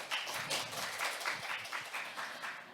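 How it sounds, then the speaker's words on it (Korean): Audience applause after a team presentation at a data competition results event, a steady wash of many hands clapping at moderate distance, sustained throughout without talk. "좋은 발표해 주신 지하철 팀께 다시 한번 큰 박수 부탁드립니다"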